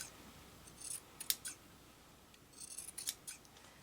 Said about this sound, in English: Take some scissors